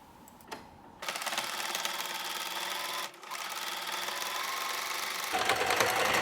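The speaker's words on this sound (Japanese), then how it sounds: "三つ折りして紐通し口となる上の部分を縫おう。" Sewing machine stitches the folded top edge of a fabric drawstring bag. It runs in a steady, fast, close mechanical whir with one brief pause partway through, and nobody speaks.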